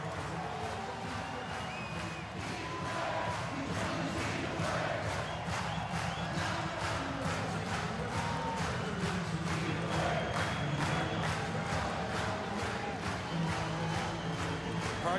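Arena crowd at a U20 ice hockey game between Canada and Sweden, a dense, steady roar of cheering and chanting with rhythmic clapping throughout, loud and continuous.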